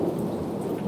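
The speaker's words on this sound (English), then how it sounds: "is still underwater from the last rain and now it's pouring" Heavy rain pours down over a flooded garden, a dense, steady, close wash of drops with a low rumble beneath, with no voices.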